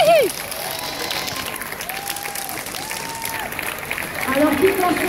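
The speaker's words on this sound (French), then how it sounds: "on les applaudit parce qu'ils aiment." An outdoor crowd at a horse-riders' event claps steadily, a sustained dense patter heard under a voice and thin whistling tones, swelling slightly toward the end.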